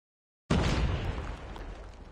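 A grenade explodes in the mobile shooter game Call of Duty Mobile: one sudden, loud close blast that breaks the silence, followed by a rumbling tail that fades slowly.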